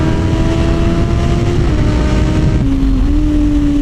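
Steady loud engine drone from a naked street motorcycle on the move, with heavy wind buffeting roaring over it and a shift in engine pitch near the end, no talking.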